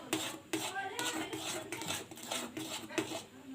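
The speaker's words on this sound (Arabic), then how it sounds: "بنفضل بقى نقلب كده زي ما احنا شايفين" A spoon stirs a creamy banana dessert mixture in a pot, repeated scraping clinks of utensil against metal in a steady rhythm about every half second, close and moderately loud.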